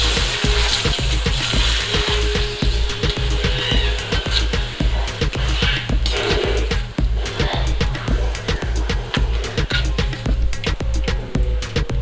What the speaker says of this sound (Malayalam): നമുക്കിതുപോലെ മറ്റ് പപ്പടങ്ങൾ ഇട്ട് കൊടുത്ത് പെട്ടെന്ന് വറുത്തെടുക്കാം.